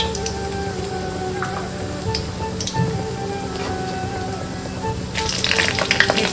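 Cumin and garam masala frying in oil with bay leaf for a prawn masala curry, a close steady crackling sizzle that swells louder near the end, no voices.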